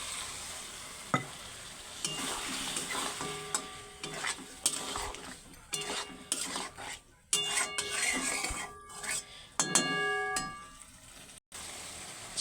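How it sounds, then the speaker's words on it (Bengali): Water poured onto frying chicken in a pan gives a fairly quiet sizzle, broken by repeated scraping and knocking strokes of a stirring spoon against the pan, with uneven pauses and no talking. "এবার পরিমাণ মতো অল্প পরিমাণে জল দিয়ে দিচ্ছি।"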